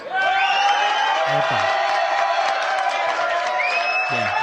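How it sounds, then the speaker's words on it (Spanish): A group of people applauding with loud cheering, whoops and shouts, a continuous, boisterous crowd roar with sustained yelling voices over scattered clapping, close and lively throughout. "este aplauso tiene menos aplauso y más gritos"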